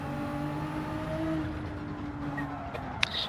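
Race car engine in Gran Turismo 7 sim racing, a steady droning whine with falling pitch as the car slows under braking, continuous and fairly loud with a brief sharp click near the end.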